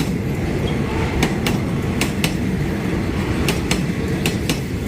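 The Ratchathani train to Bangkok passes the Pradiphat road level crossing with a loud, steady rumble, close by and continuous, marked by a few evenly spaced clickety-clack wheel beats over the rail joints.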